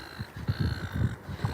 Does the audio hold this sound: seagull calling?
yes